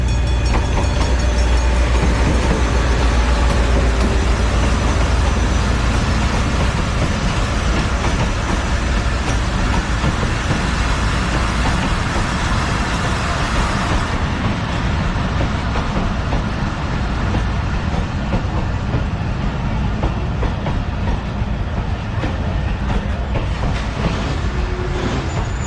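A train led by an HGMU 30 locomotive rumbles steadily at Bahawalpur railway station. The loud, continuous low roar carries a clattering undertone throughout, and no one speaks over it.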